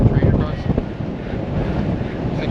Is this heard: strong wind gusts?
yes